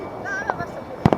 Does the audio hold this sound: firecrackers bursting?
yes